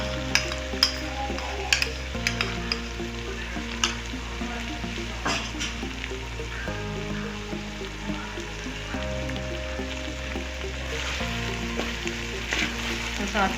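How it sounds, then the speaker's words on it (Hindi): Egg frying with vegetables in a pan for chicken fried rice: a steady, fairly loud sizzle with scattered spatula clicks and scrapes throughout, and no talking. "मैं इसमें अंडा डाल के इसको हम सब्जियों के साथ ही फ्राई कर लेती हूँ।"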